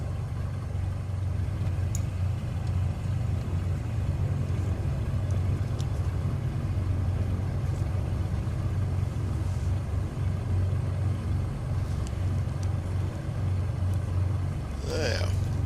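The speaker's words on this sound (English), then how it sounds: "So we'll let the engine warm up a little bit." A G58 Baron piston engine warms up in MSFS 2020, holding a steady low idling drone throughout while someone talks over it.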